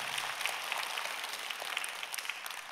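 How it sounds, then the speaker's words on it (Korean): A church congregation at a summer revival gathering claps together in praise, a steady wash of applause holding at an even level for the whole stretch, moderately distant and without talk over it. "우리 하나님 앞에 영광의 박수 한번 돌릴까요?"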